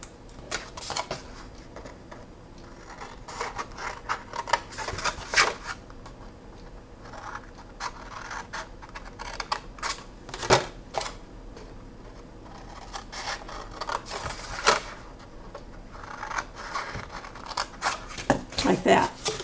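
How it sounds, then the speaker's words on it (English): Scissors cutting along the folded 2-inch edges of a paper box up to the crease, giving repeated crisp snips and paper rustles spread across the clip while someone talks over much of it. "we're going to cut on one side each edge"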